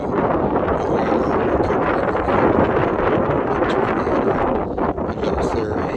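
Steady broadband wind roars across an open lake in Croatia, a continuous rushing blow with gusty swells and buffeting against the microphone, no pauses throughout.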